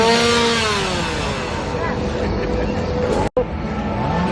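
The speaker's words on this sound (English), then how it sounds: "they've got the chainsaws back over here, and they also have them in Springfield again this year" Chainsaws rev in a Halloween Horror Nights scare zone, a loud, sustained engine whine that rises and falls under constant crowd chatter, cutting out briefly near the end.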